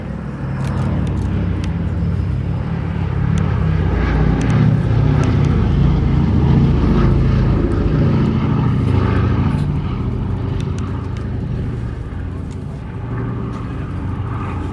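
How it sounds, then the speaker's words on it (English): Boeing B-17 Sally B, a privately operated four-engine World War II bomber, flying at the Duxford airshow, with a loud, steady propeller engine drone that swells toward the middle and then eases slightly. "B-17 Sally B, operated from Duxford privately by B-17 Preservation, headed up by the amazing Ali Sallingbow, is such a significant flying memorial"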